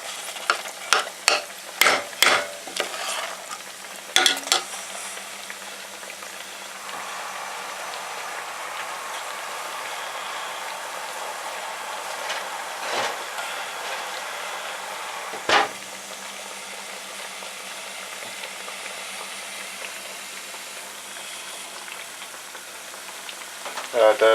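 Plantain slices frying in palm oil make a steady, even sizzle that runs the whole length, with a few sharp clinks and scrapes near the start and a couple more partway through.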